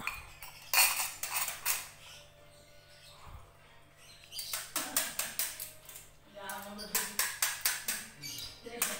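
A metal spoon scrapes and clinks repeatedly against a bowl in quick bursts, with quiet pauses between the rounds of scooping.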